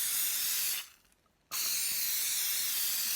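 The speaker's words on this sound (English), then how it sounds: "I've got some spray glue here because I'm going to spray on some" Spray glue hissing from an aerosol can in two strong continuous bursts separated by a short pause, close and loud with no talking.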